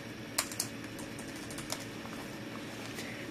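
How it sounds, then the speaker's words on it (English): Keys tapped on a Samsung Series 9 ultrabook keyboard while entering a password, a few quiet, soft clicks over a faint background hum. "Type in my password here."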